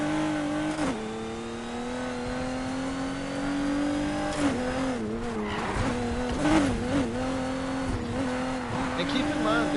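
A Camaro fitted with a V6 swapped in for its original V8 drifts in a PS4 racing game. The engine holds a loud, steady rev, with tire squeal and skidding that pitch the sound up and down midway.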